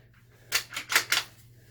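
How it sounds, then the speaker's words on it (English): Folding stock on a Ruger Precision rifle swung forward, giving a quick run of four close, crisp mechanical clicks and clacks within about a second over a faint steady low hum, with no voices. "fold the stock forward"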